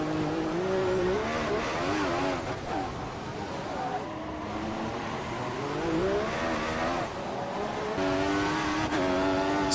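A Formula 1 car in the F1 2014 game racing around Monaco, its high engine whine rising and falling through gear changes and corners, loud and continuous with brief dips, with some quieter voice in the background.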